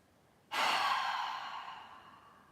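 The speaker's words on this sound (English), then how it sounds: "listen only to the sound of your breath, to the rhythm of your breath" A single loud, close yoga breath during a live class, starting sharply and rushing out as a long airy exhale that fades gradually over about two seconds.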